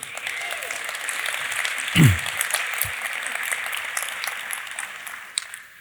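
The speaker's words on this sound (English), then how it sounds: "We should applaud that executive order." Audience applause fills a keynote hall at an IT industry forum, a steady wash of clapping from many hands, with a brief low thump near the middle.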